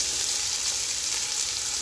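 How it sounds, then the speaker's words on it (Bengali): Raw onion dropped into hot oil for a Bikrampur-style taki fish bharta, a steady, loud, even sizzle that holds unbroken throughout with no voices. "তো পেঁয়াজটা দিলাম।"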